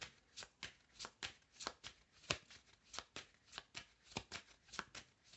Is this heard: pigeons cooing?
no